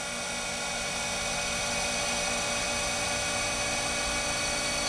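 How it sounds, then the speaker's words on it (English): The spindle of a Harig 612 automatic surface grinder runs at a steady speed, giving a smooth, quiet, even hum with a faint high whine and no change throughout. "Start the spindle. Nice quiet spindle."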